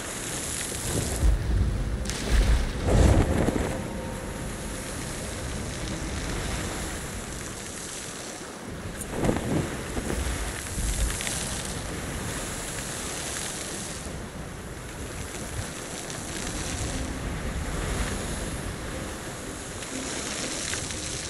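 A ship sailing on ocean waves in the video game Sea of Thieves, with a steady wash of surf and wind that swells and settles, carrying a few louder surges.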